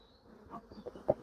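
Older honeybees buzzing at a hive opened in spring for a brood box swap, a close, steady hum with a few louder swells as single bees pass near.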